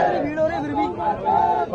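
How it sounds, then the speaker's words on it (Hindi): A large crowd at a political rally in Delhi cheers and shouts in a dense, continuous roar of many voices, loud and close throughout. "कितनी भीड़ हो रही है"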